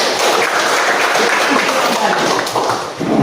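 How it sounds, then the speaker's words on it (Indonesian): A burst of hand clapping from a school class, dense and continuous for a few seconds, fairly loud and close, with voices mixed in. "Tepuk tangan"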